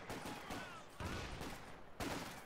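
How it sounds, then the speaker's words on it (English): Gunfire in the Company of Heroes 2 video game during a 1944 battle, with three heavy shots about a second apart over constant dense combat noise, loud and without speech. "very lucky sniper shot. Actually hit through the building."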